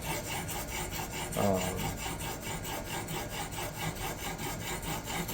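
A knife is sharpened on a Xarilk diamond stone in a Hapstone R2 fixed-angle system, giving steady rasping, rubbing strokes of steel across abrasive, with one slightly louder pass early on, and no voices.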